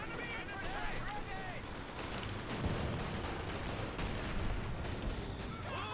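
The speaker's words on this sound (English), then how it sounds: "We got major barrage going down on the MG34" In Company of Heroes 2, an artillery barrage pounds down on an MG34 machine-gun position, heard as scattered booms and gunfire in a busy battle mix, with voices talking over it.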